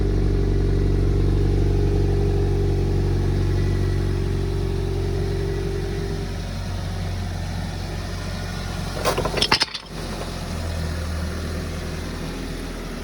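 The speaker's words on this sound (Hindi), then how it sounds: "तो अब गाड़ी जो है रिवर्स गियर में जा रही है" A Maruti Suzuki Fronx idles and then creeps backward in reverse gear at low speed, its engine a steady, close hum. A brief clatter and thump come near the end, and no one talks.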